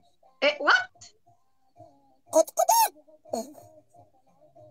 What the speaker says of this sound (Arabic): ده صوت الفرخة ده ولا ايه؟ انت بتكاكي ليه؟